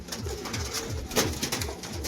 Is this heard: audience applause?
no